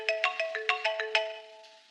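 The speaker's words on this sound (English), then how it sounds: "It's ringing." A telephone rings with a quick melodic electronic ringtone of bright tonal beeps that fade out toward the end, with no talking.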